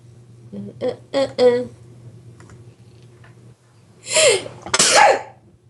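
A few words are spoken, then after a pause comes a loud, close sneeze, a breathy burst followed by a sharp explosive release.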